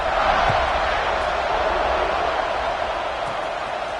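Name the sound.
football stadium crowd buzzing after a score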